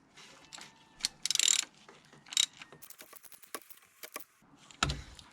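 Ratchet clicking in short bursts while tightening bolts on the Mickey Mouse hose of a BMW N52 engine in an E87 130i, close and crisp with small metallic knocks between bursts.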